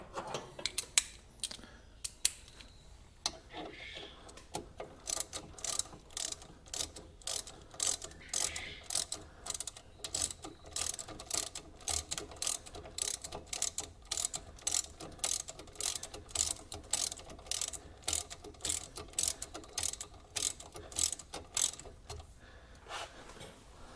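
A ratchet tightens a bolt snug on a Mazda 3's front passenger suspension during a ball joint, strut and CV axle job: close, crisp pawl clicking in steady bursts of quick strokes with short pauses.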